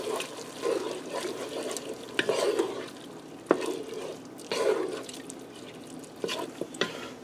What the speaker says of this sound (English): I'm also going to add in a tablespoon of paprika. Okay, stirring that in.